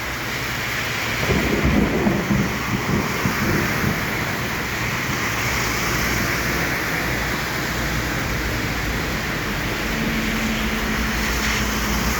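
Heavy monsoon downpour with rumbling thunder during a stop on a motorbike trip, a dense steady roar of rain throughout with a deep rumble swelling near the start, no voices.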